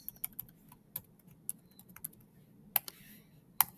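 Graphing calculator buttons pressed one at a time, small sharp clicks in an irregular rhythm, close but quiet, with a couple of firmer presses near the end.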